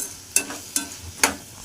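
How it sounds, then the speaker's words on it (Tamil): A spoon stirs tomato and masala in a pan, giving three sharp scraping strokes spaced at a steady rhythm over a faint sizzle, close and fairly quiet. "இதை நல்லா பச்சை வாசம் போகிற அளவுக்கு நல்லா கிளறி விட்டுக்கலாம்"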